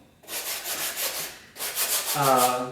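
120 grit sandpaper rubs over a foam cosplay armor thigh piece in quick back-and-forth strokes, close and scratchy, with two sanding passes separated by a short pause.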